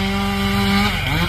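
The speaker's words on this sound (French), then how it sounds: "La tronçonneuse." A chainsaw engine drones steadily, its pitch holding and then dropping slightly near the end as it bites into a fallen tree, loud and close.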